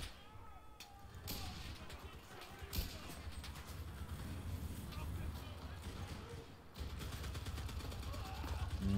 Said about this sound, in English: They are just shelling us here.